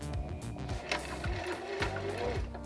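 A sewing machine stitches across a lace front wig, backing up to lock the stitch; steady mechanical needle chatter runs close and continuous, with rhythmic low thumps and a brief pause mid-run.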